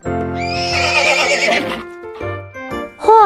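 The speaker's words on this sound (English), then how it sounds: "Horse." A horse whinnies loudly up close in a high, wavering neigh that trails off, followed by a few short snorts and a brief squeal at the end, with no voices present.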